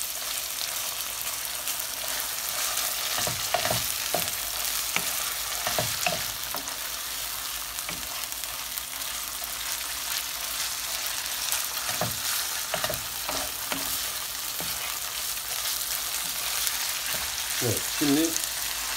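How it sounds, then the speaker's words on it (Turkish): Canned tuna and onions are stirred and mashed in a pot over a steady sizzle, with intermittent scraping strokes of the utensil close by. "Şimdi bunu soğanla beraber güzelce şöyle bir hem karıştıralım hem biraz ezdirelim."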